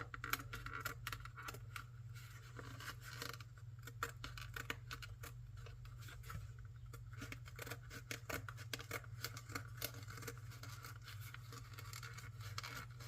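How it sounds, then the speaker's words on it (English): Quick repeated snips of scissors cutting through material, a steady run of crisp clicks over a low background hum. "use just the very back end of the scissors to cut now"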